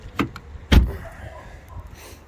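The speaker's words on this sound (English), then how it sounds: "Right, open the door." VW Golf car door being opened, with a short click and a firmer thunk of the latch close by, followed by faint quiet handling sounds.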